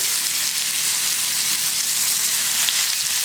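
Honey soy ginger garlic pork chops sizzle in a hot pan over medium-high heat, a steady, close, continuous frying hiss with no talking.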